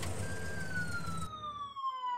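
An ambulance siren in a children's cartoon, a steady electronic wail that glides slowly downward in pitch, passing and fading as the vehicle speeds toward a hospital.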